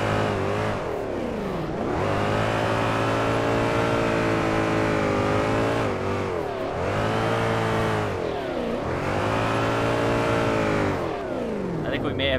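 Subaru BRZ boxer engine in the DRIFT21 drifting game revs steadily and loudly while driving, rising and dipping in repeated surges roughly every few seconds with gear-change drops, sustained throughout.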